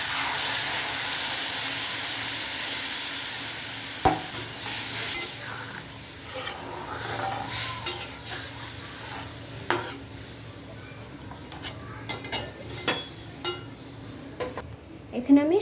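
Mango pieces frying and being stirred in a pan for a sweet-and-spicy Bengali mango chutney, a steady sizzle with scraping stirs and occasional clinks of the spoon against the pan, close and fairly loud, with no talk.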